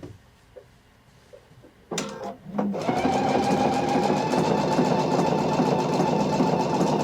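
A Pfaff sewing machine runs a test stitch, starting with a few faint clicks and knocks before the motor spins up into a loud, steady, close whirring that continues to the end.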